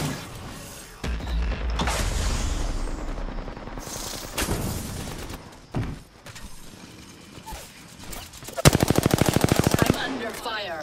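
Rapid automatic gunfire bursts in the Apex Legends video game, loud and close, with mechanical clanks and brief quieter gaps between volleys, ending in a sharp sustained burst of shots.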